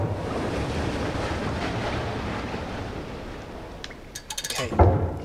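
Flowing, surging water in the video game Limbo, a steady wash of rushing sound through most of the stretch, then fading as a few sharp mechanical clanks and thuds break in near the end.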